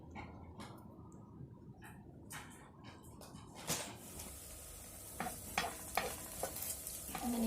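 Okra frying in a pan is stirred with scattered spoon clinks and scrapes, quiet at first and growing busier over a low sizzle, close but faint overall, with no talking.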